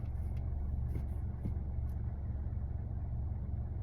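A car engine idles steadily as it sits parked on a hot evening, a low continuous rumble holding even throughout with a few faint ticks and a brief bump at the very end.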